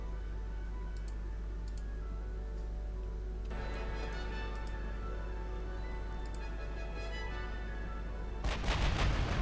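Warship guns firing in the naval battle game Ultimate Admiral Dreadnoughts, as a German fleet engages American battleships and cruisers: a low steady rumble with faint muffled reports, then a louder burst of cannon fire at the end.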